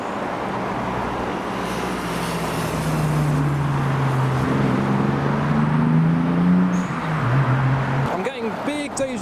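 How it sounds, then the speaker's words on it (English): A Toyota Mark IV Supra drives past at a car show, its engine note rising and sliding in pitch as it approaches and passes, loud and close over steady crowd and road noise, with brief voices at the end. "Another Mark IV Supra."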